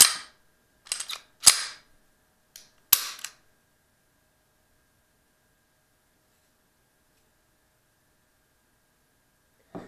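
The slide of a Grand Power P11 Mk12 pistol is pulled back and released several times, giving sharp, close metallic clacks in short clusters, separated by quiet gaps.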